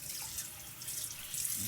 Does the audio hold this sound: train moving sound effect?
no